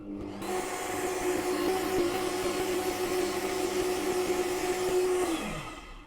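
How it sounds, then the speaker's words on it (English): Power drill boring a 1/4 inch hole through a turned wooden knob: a steady, fairly loud motor whine runs continuously for about five seconds, then winds down in pitch as it stops, with no talking. "next I'll go ahead and put a 1/4 inch hole through it."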